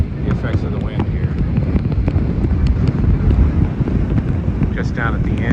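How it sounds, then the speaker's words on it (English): Strong wind on a river near Hickman, Kentucky, blustering loudly and steadily into the microphone as low rumbling buffeting, close and continuous throughout. "see the effects of the wind here"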